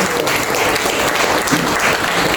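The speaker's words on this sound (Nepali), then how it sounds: "हामी सबैजनाले ताली बजाउनेछौँ" Audience clapping at a book launch, a continuous burst of applause from a roomful of people, loud and sustained across the brief moment.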